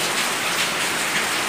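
Steady rain falling outside, a dense, even hiss of drops on surfaces with no voices, close and fairly loud throughout.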